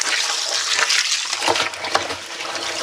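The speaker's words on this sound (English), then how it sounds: "I'm going to start filling this barrel" A garden hose runs steadily into a barrel at a greenhouse, giving a continuous, fairly loud hissing gush of water with no voices.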